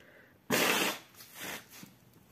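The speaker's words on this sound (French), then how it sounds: "je vais certainement me moucher un petit peu là" A sharp, loud nasal blast followed by two shorter, softer blows, close up with no talking.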